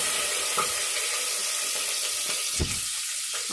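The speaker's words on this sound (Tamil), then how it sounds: "நம்ம வந்து இதில் ஆனியன் போட்டுக்கலாம்." Onions frying in hot oil in a pressure cooker for egg biryani give a steady, close sizzle, with a few soft clatters from stirring.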